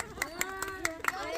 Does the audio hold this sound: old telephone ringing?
no